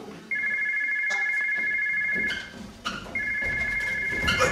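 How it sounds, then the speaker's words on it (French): A telephone rings in a comedy scene, two bursts of electronic trilling separated by a short gap, with brief movement and voices faintly underneath. "Mais tu es fou de répondre au téléphone quand il sonne."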